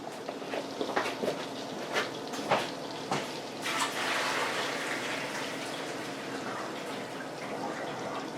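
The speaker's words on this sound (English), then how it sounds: "what I'm going to do is pour the water off of this." Cooking water from boiled potatoes pours off into a sink, a steady splashing rush with a few clunks and taps of the pot at the start, fairly faint and with no voices.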